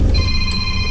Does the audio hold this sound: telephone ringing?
yes